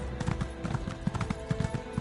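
Horse hooves clip-clopping at a steady trot in The Elder Scrolls Online, an even run of close, quiet hoof beats with no talk over them.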